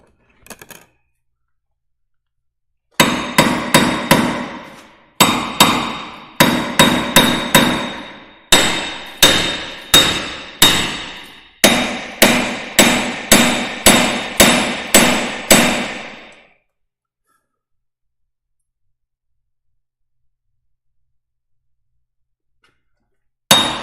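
Rapid bursts of hammer blows, loud and close, come in quick clustered runs with short pauses between them for about thirteen seconds, then stop into silence.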